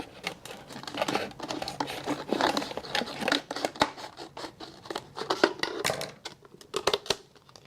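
Scissors snip and crinkle through a thin plastic bottle, a close, irregular run of crisp cuts and rustling plastic with short pauses, no talking.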